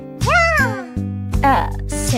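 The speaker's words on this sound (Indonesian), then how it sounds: "Lalu kucing ini?" A cat meows twice in close succession, loud and near, with rising and falling cries, then a third meow follows after a short pause; a person's voice is heard around the cries.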